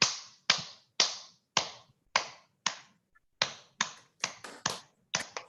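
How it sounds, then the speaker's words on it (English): Hands clapping close by in sharp, separate slaps, unevenly spaced about half a second apart. Short silences fall between them, and a brief quicker cluster comes near the end, with no talking. "Let's all clap."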